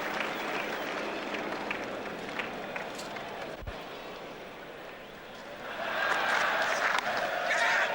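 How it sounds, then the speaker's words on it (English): Crowd applause rises at a cricket Test match in Brisbane, a distant wash of clapping that swells and grows louder near the end, heard over a broadcast background. "And applause for Marsh and Australia's 50"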